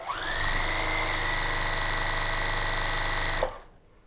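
A sewing machine run fast with no needle or thread, a steady loud mechanical whir with a rising pitch at the start, holding evenly for about three seconds before cutting off abruptly into quiet.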